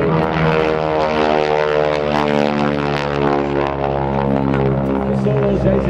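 GEICO Skytypers propeller planes flying a bomb run maneuver at a military open house airshow, a loud continuous drone of prop engines with steady harmonic hum throughout.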